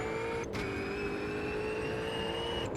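Race car engine in Automobilista 2 at Donington Park, droning at a steady high pitch as it drives, with a faint brief break partway through and no voices.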